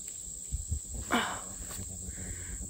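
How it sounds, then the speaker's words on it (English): Crickets and other insects chirp outdoors in a steady high-pitched drone, with faint footsteps and handling noises underneath. "So many bugs out here."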